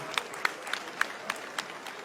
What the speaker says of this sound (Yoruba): ẹjọ jẹ́ ká fún ní àtẹ́wọ́ tó rinlẹ̀ dáadáa